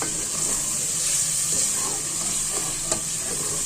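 Spinach and beef curry (palak gosht) frying in a pan, giving a steady, close hiss of sizzling with a few faint stirring scrapes and clicks, no voices.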